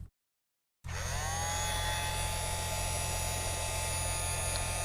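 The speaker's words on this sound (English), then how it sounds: "First I am gonna heat it with a heat gun." A heat gun runs steadily at close range, melting gold marble embossing powder on a papercraft card, with a constant electric hum and whine starting after a short silence and continuing without a break.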